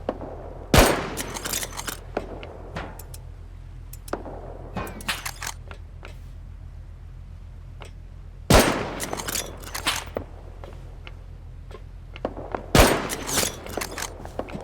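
Sharp gunshots from the survival game Rust: a few isolated loud cracks spaced several seconds apart, each with a short tail, between scattered softer clicks and impacts over a low steady hum.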